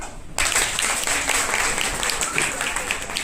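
Applause for teams at a Bihar Day quiz competition starts abruptly and holds as a dense, loud burst of many hands clapping, with a crowd murmur underneath.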